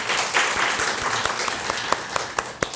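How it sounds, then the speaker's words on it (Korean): Church congregation applauding to encourage a deacon's visiting parents during a Pentecost Sunday service, a steady wash of clapping from many hands with a few sharper claps standing out near the end. "여러분 박수로 두 분을 격려하면 좋겠습니다"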